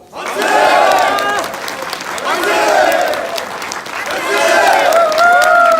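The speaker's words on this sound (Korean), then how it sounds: "만세 삼창 하실 때 같이 환호와 큰 박수 부탁드리겠습니다." A crowd at a party rally for new members cheers and applauds loudly after three shouted cheers of "manse," the roar rising and falling in three swells over several seconds, with voices shouting through the clapping.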